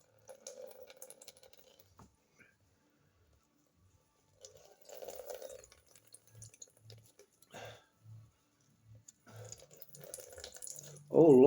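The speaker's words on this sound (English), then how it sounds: "See it pour? Oh yes, it pours." Spinach juice pours in short bursts and drips for an anthotype print, a thin liquid trickle starting and stopping close by, with a person talking in between.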